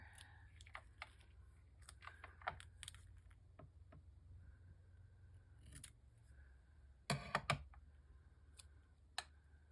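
Scissors cut through paper in a quiet room, with several soft snips and crisp clicks of the blades, then a louder cluster of cuts near the end.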